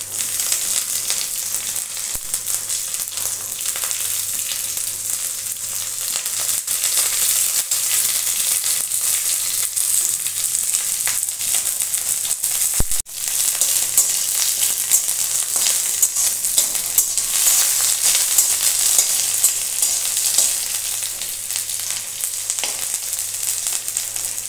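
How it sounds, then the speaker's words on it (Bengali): Mustard seeds, green chilies and curry leaves sizzling in a little white oil in a kadai, a continuous dense crackling sizzle, close and fairly loud, with no talk. "এখানে কড়াইয়ে আমি অল্প সাদা তেল দিয়েছি, দিয়ে দিচ্ছি সর্ষে আর কাঁচা লঙ্কা,"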